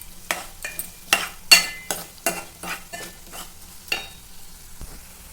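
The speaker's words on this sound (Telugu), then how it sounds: "బాగా ఫ్రై చేసుకోవాలి. ఇలానే మిక్స్ చేసుకుంటూ మధ్య మధ్యలో ఇలా కలుపుతూ ఉండాలి" Potatoes fry in a pan while a spoon stirs them, giving a series of sharp scraping strokes about every half second over a soft, steady sizzle, close and fairly loud with no talking.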